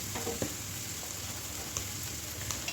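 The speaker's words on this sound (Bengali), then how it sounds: "তো এখানে পেঁয়াজ মরিচ আদা রসুন সব ভালো করে কষিয়ে নিয়ে" Onion, chili, ginger and garlic fry in a pan with a constant crackling sizzle, dotted with a few light clicks and scrapes of stirring, close and steady throughout.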